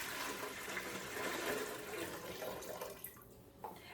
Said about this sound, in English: I'm gonna put about a gallon of water into the pot.